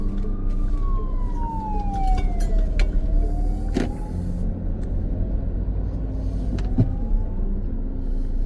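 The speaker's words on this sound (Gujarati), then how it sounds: "પોલીસની ગાડીઓ બહુ ઘુમરા મારે." Police car siren near the Indian embassy in Luxembourg, a long gliding wail that sweeps down then rises again over steady traffic rumble, heard from a moving vehicle with no talk.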